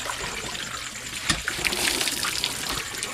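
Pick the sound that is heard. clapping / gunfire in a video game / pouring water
pouring water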